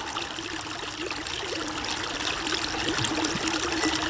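Creek water flows around a stone with a steady close-up trickling and burbling, continuous and fairly soft.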